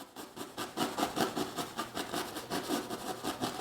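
A brush loaded with oil paint scrubbing lightly back and forth on canvas where two cloud colors meet, making soft rhythmic rasping strokes at a steady pace, quiet and close.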